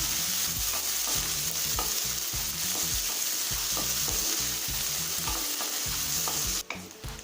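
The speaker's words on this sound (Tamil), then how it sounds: "இப்போ வெங்காயம் நல்லா வதங்கிடுச்சுங்க" Chopped onion sautés in a pan with asafoetida for an okra buttermilk curry, a steady sizzle broken by quick, rhythmic stirring scrapes that repeat throughout, close and fairly loud.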